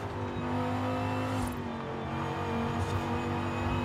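A race car engine in Forza Horizon 5 holds a steady, loud drone with a faint rise in revs, and no voice over it.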